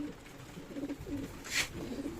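Soft, low pigeon coos repeat nearby at a pigeon farm in Shibganj, Chapainawabganj, Bangladesh, while it rains outside, with a brief sharp hiss or flutter partway through.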